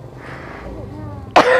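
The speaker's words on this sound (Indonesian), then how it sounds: "Ya dia kena covid loh mas, malah batuk-batuk." A woman coughs once, a sudden loud burst at the end after quiet background noise with faint tonal sounds.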